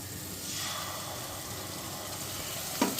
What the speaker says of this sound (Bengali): এবার এই টক দইটা আমি এটার মধ্যে দিয়ে দিচ্ছি।